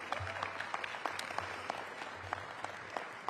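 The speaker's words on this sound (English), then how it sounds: "So give yourselves a round of applause" Audience clapping at a civic partnership announcement in Washington, DC, a steady mid-level wash of many hands with scattered sharper claps throughout and no voices over it.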